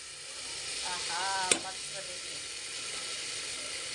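Vegetables sizzle steadily in a hot pan in a home kitchen, with a single sharp scrape of a utensil partway through and a voice speaking faintly underneath.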